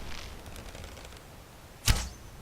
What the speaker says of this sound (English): The arrows are clipping through him.